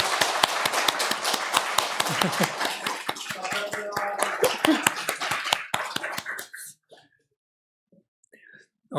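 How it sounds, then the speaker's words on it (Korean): Church congregation clapping in welcome for returning members, a brisk burst of many hands close by that fades out after about six seconds, leaving near silence. "우리 다 환영하는 박수 한번 했으면 좋겠습니다."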